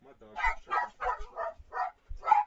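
A pet dog barks excitedly indoors in a quick series of about six sharp woofs, close and fairly loud, with short gaps between each bark.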